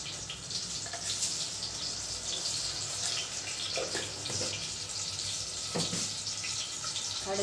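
Mustard seeds splutter and crackle in hot oil for a Tamil tomato kulambu, a continuous close sizzling hiss dotted with small pops.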